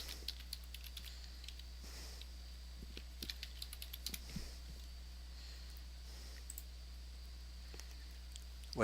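A password is tapped out on a computer keyboard during a Kali Linux install, faint quick clicky keystrokes in small irregular bursts over a low steady hum.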